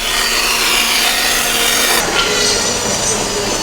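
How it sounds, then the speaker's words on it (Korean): A saw cuts small curves in solid wood at a furniture factory, giving a continuous loud rasping and grinding with no break. "아주 작은 곡선을 부드럽게 이어가며 능숙하게 절단한다."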